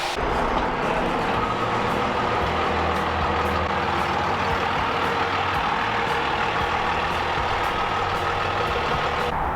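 Loud, steady rumble of a truck engine running, with broadband road and wind noise throughout and no pauses.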